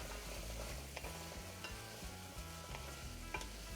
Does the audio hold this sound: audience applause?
no